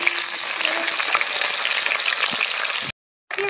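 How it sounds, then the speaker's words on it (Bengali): Grated garlic sizzles in hot oil in a wok, a loud, steady, close frying hiss that cuts out briefly near the end before resuming. "দিয়ে দিচ্ছে গ্রেট করে রেখে দেওয়া রসুন"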